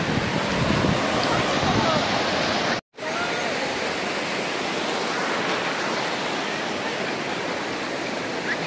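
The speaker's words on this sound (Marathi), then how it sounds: "श्रीवर्धनचा समुद्रकिनारा" Ocean waves at Shrivardhan beach roll in as a broad, steady roar of surf, close and loud, broken only by a brief gap near the start.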